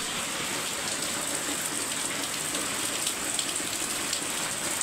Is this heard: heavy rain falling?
yes